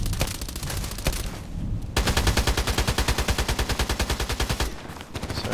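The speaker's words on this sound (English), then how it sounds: "Caddy the Darkness continues shooting at the spawn point" Rapid automatic gunfire in the online shooter Contract Wars, with sharp single shots at first, then a long continuous burst of evenly spaced rounds, loud and close, fading out near the end.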